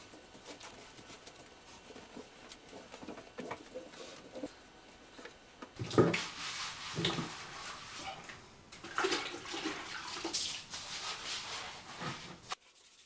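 A wet sponge or cloth swishes and squeaks across tiled walls while water drips and splashes, cleaning off epoxy grout haze in irregular bursts of scrubbing, close and fairly quiet.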